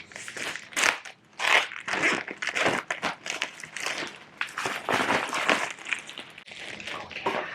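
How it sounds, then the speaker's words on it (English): Crinkling and crunching of plastic packaging as a Halloween collectible is unwrapped up close, a steady run of rustles and crackles with no speech. "A little unwrapping ASMR for you guys."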